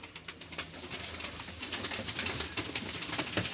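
Pigeons kept for sale at auction coo and flutter nearby, a continuous soft cooing chorus over a rustling background, with no speech.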